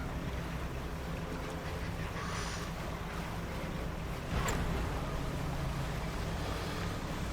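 A boat's engine in the fishing game Dredge rumbles steadily alongside a wash of water and wind, loud and continuous throughout, with no talking.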